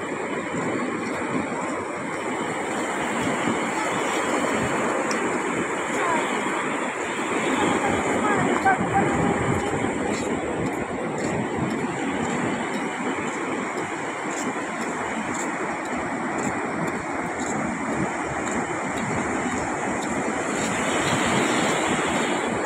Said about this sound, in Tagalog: Abot na alon.